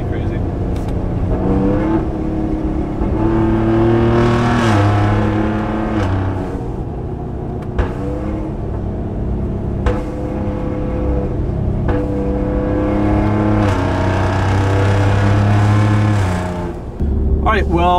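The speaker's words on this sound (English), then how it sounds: "That's off the downshifts alone, those pops." A 2019 Ford F-150 Raptor pickup revs hard in repeated sustained bursts, with sharp exhaust pops and crackles on the downshifts, loud and close throughout.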